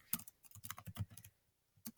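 Quick bursts of keystrokes on a computer keyboard, close and clear, in an irregular rhythm with a short pause before a final few taps; no voices.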